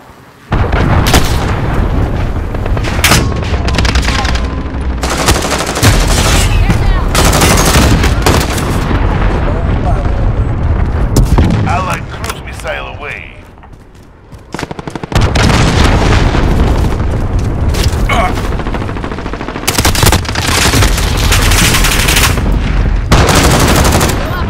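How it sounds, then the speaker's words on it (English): Cruise missile explosions and dense gunfire in Call of Duty Modern Warfare team deathmatch play: loud, continuous bursts of automatic fire and heavy booms, briefly easing midway before the barrage resumes at full strength. "Enemy cruise missile incoming."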